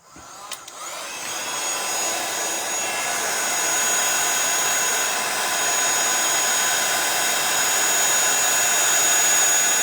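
Embossing heat tool blowing steadily as it melts embossing powder on a card, a constant loud whirring hiss that starts abruptly after a click and holds alone for the rest of the stretch.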